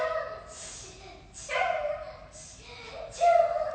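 A pet dog yips and whimpers in a few drawn-out, whiny bursts at close range in a home, with quiet gaps between the cries.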